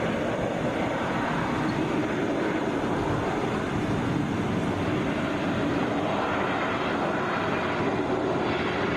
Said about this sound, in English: Touching down, that is Delta 1537 coming in from Minneapolis, Airbus A321.